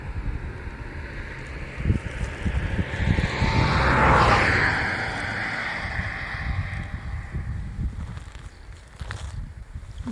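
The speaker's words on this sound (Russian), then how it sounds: "Ветер дует, раздувает семена." Wind blows steadily in broad gusts, swelling louder for a moment before settling into a constant outdoor rush with low rumbling buffeting.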